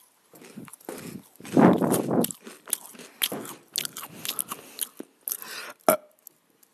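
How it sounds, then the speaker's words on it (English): Someone chews and crunches food up close, with irregular bursts of loud crunching and wet bites spread across several seconds, heaviest early on and tapering off. "I don't know if you guys can hear my chewing,"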